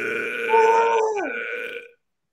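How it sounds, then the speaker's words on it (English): A single long, loud burp after drinking Pepsi, close to the microphone, rising in pitch then dropping off sharply before stopping abruptly. "I need to burp, man."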